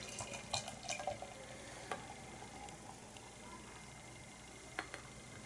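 Minoh Beer and Hibino Beer Bootleg Brut Sudachi, a Japanese brut beer, is poured from the bottle into a glass, with faint splashing and a few soft clinks at close range over quiet room tone. No one speaks.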